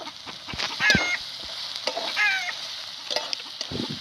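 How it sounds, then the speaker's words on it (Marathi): Onion and green chili frying in a pan with turmeric, a close, steady sizzle with scraping spoon strokes and occasional clinks, and no talk over it. "मस्त कांदा मिरची तळून घेतली हळद टाकून घेते"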